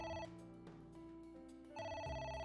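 A telephone rings in AI: The Somnium Files, a steady electronic bell tone that pulses through the whole short stretch, loud and alone with no voices.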